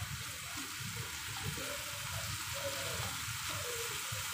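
Water poured into a pan of cooking potato and capsicum sabzi hisses and sizzles as a soft, steady wash of noise, faint and continuous, with no talking.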